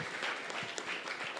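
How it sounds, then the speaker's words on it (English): Church congregation applauding a panel during a Sunday service at Trinity Vineyard Church in Nakuru, a soft, steady spread of clapping at moderate distance, fairly faint and even throughout. "Can we have another round of applause for our panel?"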